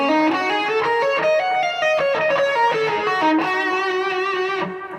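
Distorted electric guitar plays a lead riff, a fast run of picked and pulled-off single notes with a steady flowing rhythm, loud and close with no voices.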